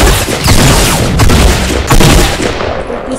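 Pump shotgun fire in the Fortnite video game: three or four loud, booming shots spaced under a second apart, heavy and close, with no talking.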